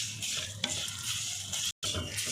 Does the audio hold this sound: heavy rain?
no